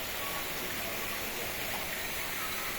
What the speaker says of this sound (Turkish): Şelale. Şelale kısmı.